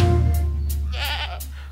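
A goat bleats in a children's Spanish nursery rhyme, a single wavering nasal cry over a steady low musical drone, loud and close with no talking.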